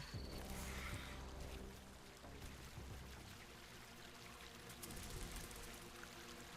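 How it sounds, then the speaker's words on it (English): Steady rushing water in the video game Grounded 2 pours and trickles continuously at moderate volume, with a few faint low rumbles mixed underneath. "I guess follow the running water sounds."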